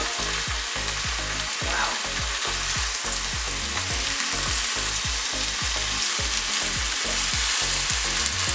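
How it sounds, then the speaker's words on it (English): Loud, steady sizzling of a vegetable stir-fry in a hot pan, with rhythmic scraping of stirring repeating about twice a second; a voice briefly exclaims. "you hear it sizzling"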